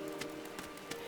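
Soft rain from the video game Final Fantasy XIV patters faintly on surfaces, with a few light drop taps over a quiet, even wash.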